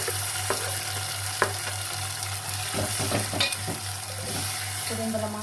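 Browned onions and freshly added tomatoes fry in a pan for a drumstick curry, with a steady sizzle broken by scraping stirs and clinks of a spoon against the pan.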